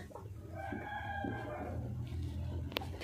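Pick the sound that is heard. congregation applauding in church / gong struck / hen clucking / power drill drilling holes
hen clucking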